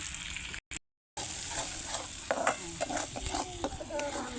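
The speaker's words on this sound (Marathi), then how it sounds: "बघा तळून घ्यायला लागली मी आता" Fish fries in a pan with a little oil, coconut, ginger, garlic and coriander, giving a steady close sizzle with stirring scrapes and a brief cut to silence near the start.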